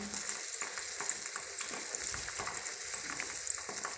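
Homemade butter heats in a pot with a soft, steady bubbling sizzle and light crackles, fairly faint and even, with no voices over it.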